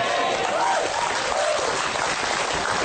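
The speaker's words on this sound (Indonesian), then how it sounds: "Nah, tepuk tangan." Steady applause from an audience at a religious talk fills the whole stretch, dense and even, with faint voices barely showing underneath.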